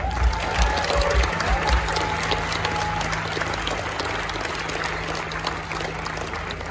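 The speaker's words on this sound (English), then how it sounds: "So please give a warm welcome and a huge round of applause for Amy and Paul from Moving Animals." Audience applause greeting two speakers at a vegan camp-out talk, a steady wash of clapping from a crowd that holds an even level throughout, with a low hum underneath.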